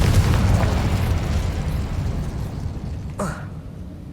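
A Confringo spell bursts in the video game Hogwarts Legacy with a loud, rumbling explosion that tails off over several seconds, followed by a short sharp magical crack near the end.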